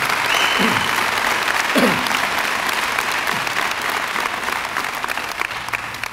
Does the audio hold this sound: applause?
yes